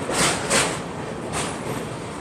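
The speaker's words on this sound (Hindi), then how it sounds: "सामने देखो एक लोकल ट्रेन की भी क्रॉसिंग हो रही है अभी ब्रिज पर ही" A local train rumbles and clatters across a bridge over the Krishna River at some distance, with a few swelling bursts of hiss over a steady low roar.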